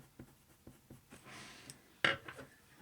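Dark sepia colored pencil scratching across paper in short repeated strokes, close and quiet, followed by a longer rubbing pass and a louder sharp stroke, while drawing a leopard eye.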